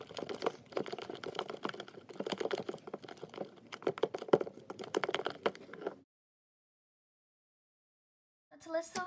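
Glossy, clicky slime tinted with one drop of green and one drop of red dye is squished and played with by hand, giving dense, steady crackling clicks and pops for about six seconds, then silence before a brief burst resumes at the end.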